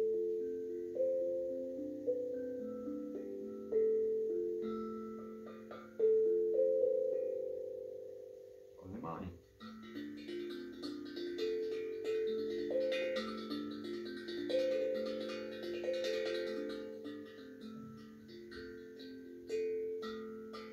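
A retuned steel tongue drum bought on Amazon, played alone in a slow melody of ringing struck notes with short sustain, close and fairly quiet, with a bright metallic clatter partway through.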